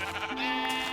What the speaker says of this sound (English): Is that a sheep? That's a sheep.